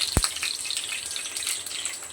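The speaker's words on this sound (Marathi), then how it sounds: "मोहरी तडतडते" Mustard seeds crackle in hot oil in a pan, giving a dense, continuous hiss flecked with tiny pops, close and steady throughout, with no talking.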